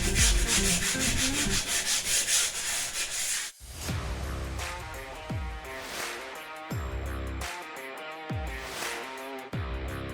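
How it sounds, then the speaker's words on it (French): Hand sanding of smoothing plaster filler on an interior wall, a steady close rasping rub at first, then a run of repeated scraping strokes with brief pauses, loud and alone without voices. "c'est de l'enduit de lissage que j'ai mis. Je veux dire, ça se ponce très très bien."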